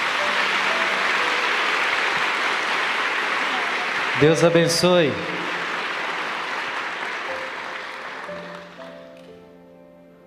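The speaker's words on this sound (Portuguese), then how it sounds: "Aplauda este grande milagre." Church congregation applauding a healing testimony, a dense steady roar of clapping that fades toward the end, with a brief spoken blessing in the middle.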